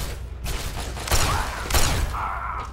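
Rapid gunfire from a gun in a video game, set during an escape from an Enclave base, with loud, dense bursts of shots and mechanical clatter that surge twice over a constant roar, with no talking.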